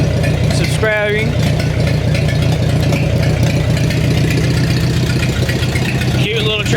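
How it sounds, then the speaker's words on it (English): A small Ford 8N tractor engine idles steadily with a low, even chug, close and continuous, while someone talks over it. "Cute little tractor, constantly running, constantly wanting to work."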